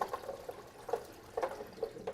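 Soft bubbling and gurgling inside a SaniServ 500 Series twist ice cream machine, a few quiet liquid blips recurring irregularly with the seals in place, faint and alone.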